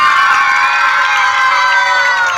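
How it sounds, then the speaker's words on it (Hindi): Loud, steady cheering and shouting from a crowd of children at a school Children's Day event, sustained without a break. "अब प्रिंसिपल मैम के लिए आप लोग ताली बजाइए।"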